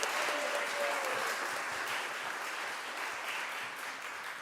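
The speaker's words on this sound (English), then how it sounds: "So can we get one last round of applause for all of our kids and our youth and the work that they" A congregation at a Sunday service applauds its kids and youth, a steady wash of clapping filling the room at an even level throughout.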